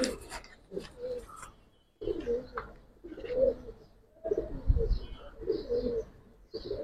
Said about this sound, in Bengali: দুই পেয়ার কবুতর ভাই